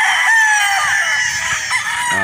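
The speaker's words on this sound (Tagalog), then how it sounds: "driver ni Boss Martin Schooling tumutulong na sa pagkuha ng mga manok dito, mga manok." Gamefowl chickens on a farm crow and cluck loudly and up close as they are being caught, with overlapping rooster calls and no talk.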